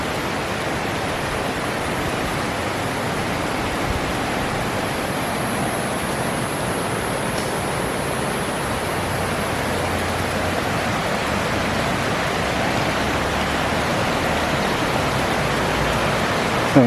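A river in rural South Pekalongan flows in an even, unbroken rush of water that stays loud and steady throughout, with no voices.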